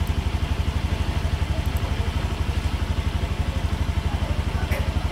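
Motorcycle engine idling steadily, a close, even low thumping pulse with light mechanical clatter, running alone throughout.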